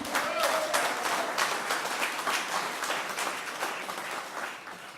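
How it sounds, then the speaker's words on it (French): Audience applause at a campaign launch rally for municipal elections in Païta, sustained dense clapping from a large crowd, steady and fairly loud throughout. "Merci d'applaudir Goretti."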